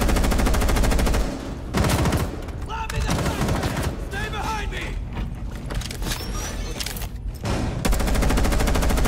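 Rapid automatic gunfire in the shooter game Rainbow Six Siege, loud dense bursts firing almost continuously, with a short lull of clattering gear and footsteps between volleys.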